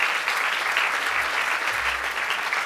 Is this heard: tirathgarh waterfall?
no